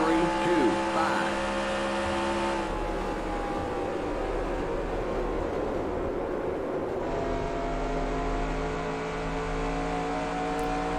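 Stock car engine roaring steadily in NASCAR Racing 2003 at Nashville Superspeedway, a continuous loud drone with a sustained tone and little change over the whole stretch, with no talk over it.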